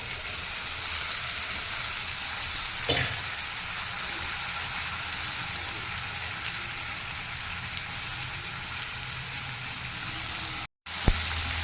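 Steady sizzling of white chickpeas frying in a hot pan with turmeric, with a brief clatter of stirring or tossing partway through and a short break near the end.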